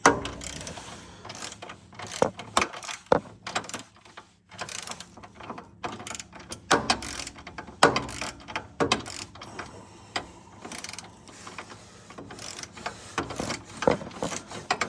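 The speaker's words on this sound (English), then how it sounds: "We're gonna torque this to 35 foot-pounds." A ratchet torque wrench tightens a motor mount bolt during a polyurethane motor and transmission mount replacement, giving close, irregular bursts of sharp clicking with pauses in between.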